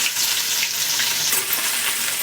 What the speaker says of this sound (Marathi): अद्रक लसणाची पेस्ट घालते आपण